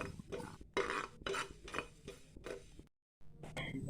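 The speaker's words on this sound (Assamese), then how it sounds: "এতিয়া মই গোটা মছলাখিনি একেলগ কৰি এনেদৰে এখন পেনত ভাজি লৈছোঁ।" Whole spices including fenugreek seeds dry-roasting in a pan, with repeated close scraping and rattling strokes of a utensil, a brief silence, then more stirring.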